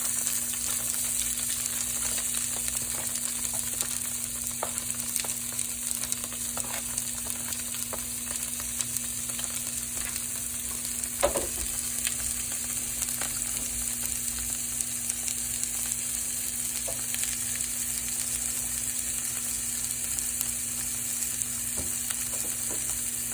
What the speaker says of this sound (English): And we're just sauteing this really quick.